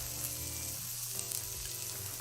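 Onions sizzle on a Japanese gyukaku-style BBQ grill as they are flipped, a steady close frying hiss that holds for a couple of seconds with no voices over it.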